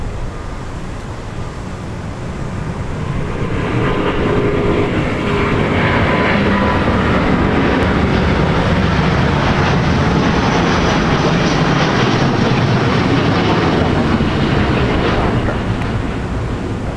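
An airliner takes off at Minneapolis–St. Paul Airport, its jet engines building from a distant rumble into a loud sustained roar that holds steady as the aircraft climbs away, with no talking over it.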